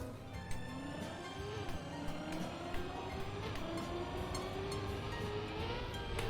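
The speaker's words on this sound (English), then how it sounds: "Let's turn up the car sound." A race car engine in the Trackmania video game hums and rises steadily in pitch as the car accelerates through a track, a continuous, moderately loud drone with no talk over it.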